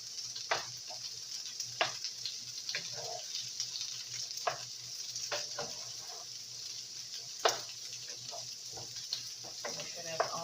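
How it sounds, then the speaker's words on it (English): Hamburger meat cooking with cream of mushroom in a pan, a steady broad sizzle and bubbling with scattered soft clicks and scrapes of stirring throughout. "just let everything simmer for a minute to make sure everything is done"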